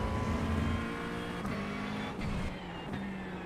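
McLaren GT3 race car engine in the iRacing sim: a steady, loud engine drone with clear harmonic tones, a few quick gear-shift breaks and slight revving, with no voices over it.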